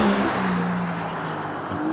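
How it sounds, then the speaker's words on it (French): The V12 engine of a new Aston Martin Vanquish supercar drones steadily from inside the cabin while driving, a loud continuous rumble with a slowly shifting engine pitch and no talk over it. "Il y a le vrai bruit de V12 Aston Martin qui est juste magique quand tu la démarres et après directement quand tu roules."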